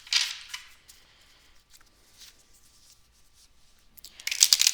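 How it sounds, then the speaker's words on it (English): Rider-Waite tarot deck being shuffled by hand, quiet close riffles and crisp card rustles in short bursts with pauses between, a louder flurry at the start and again at the end. "my shuffling's kind of out of whack here"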